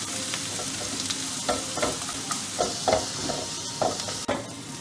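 Sliced onions with a pinch of sugar and salt frying in a pan, a soft continuous sizzle broken by repeated scraping stirs every half second or so, close and fairly quiet.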